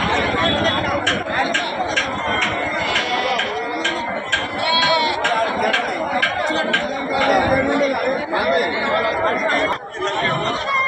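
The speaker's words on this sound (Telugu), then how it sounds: "పని పనిచేసే మేకలు పెద్ద సైజు మేకలు ఉన్నాయి ఫ్రెండ్స్ ఇవి" Several goats, including large working goats, bleat repeatedly at a weekly goat market in Dubbaka amid overlapping chatter from a crowd of people, the animal calls rising above the steady talk.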